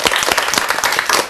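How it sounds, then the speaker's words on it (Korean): Lecture audience applauding a participant, a brief burst of dense hand clapping that stays loud and steady throughout, with no voices over it. "우리 저분께 박수 한번 쳐드리세요."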